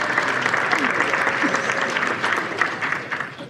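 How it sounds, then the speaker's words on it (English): Sustained audience applause fills a charity event hall, many hands clapping steadily at moderate loudness with faint crowd murmur mixed in. "Please give them a round of applause as well."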